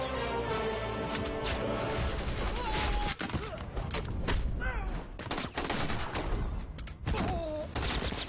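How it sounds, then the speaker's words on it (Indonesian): Gunfire from a film shootout crackles in dense, rapid bursts and single sharp shots, loud and continuous with thuds and crashes mixed in, under a busy action soundtrack with scattered voices. "Kemudian baku tembak pun masih berlanjut."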